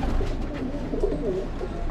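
Pigeons kept by a fancier coo softly and steadily at close range, their low, rolling calls overlapping in a continuous murmur.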